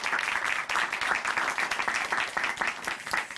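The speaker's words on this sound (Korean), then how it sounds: "오늘 귀한 간증 들려주신 김명희 자매님께 다시 한번 큰 박수 보내드릴게요" Studio audience applause at a church testimony broadcast: a dense, sustained round of clapping from many people, steady and fairly loud throughout the three and a half seconds, with no speech over it.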